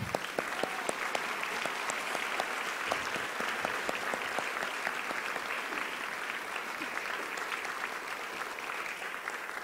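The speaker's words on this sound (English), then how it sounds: "let's give them a big hand of applause" Steady, distant-sounding applause from a luncheon audience at a national women's conference, an even wash of many hands clapping for honored sponsors, faint and continuous for the whole stretch.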